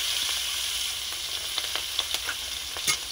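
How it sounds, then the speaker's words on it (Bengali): Prawns coated in salt and turmeric fry in mustard oil in a wok, giving a steady bright sizzle with a few soft scrapes and clicks from stirring, close and alone without voices. "আমি এখানে চিংড়ি মাছগুলো ভেজে নেব"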